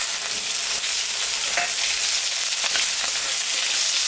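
Onion sizzling in hot oil with cardamom, cinnamon, dried red chilli, bay leaf and cumin for a fish curry, a steady close crackling hiss with light stirring scrapes and no talk.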